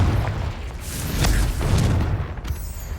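Explosive spell blasts in the Hogwarts Legacy video game, heavy booming thuds rolling over dense low rumble, with a couple of sharper bursts and a fading tail near the end.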